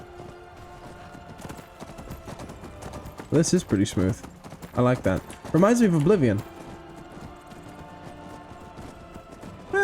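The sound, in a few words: horse hooves clip-clopping in Skyrim video game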